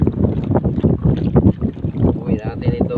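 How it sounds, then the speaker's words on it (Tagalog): Strong wind buffets the microphone in heavy gusts while a person talks over it, with a fishing boat's motion at night in the background. "Lumakas na yung hangin bro."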